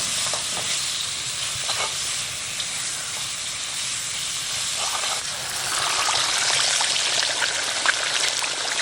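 Curry with flounder and shrimp sizzling steadily in a pan while being stirred, a close continuous frying hiss with scraping stir strokes, growing louder in the last few seconds.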